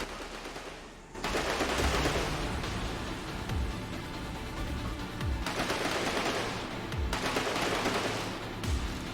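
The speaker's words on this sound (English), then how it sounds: "I hear shooting" Sustained bursts of automatic gunfire in the video game Stormlands, loud and near, with dense rapid fire broken by brief pauses and heavy low thuds.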